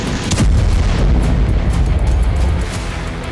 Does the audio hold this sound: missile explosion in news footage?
yes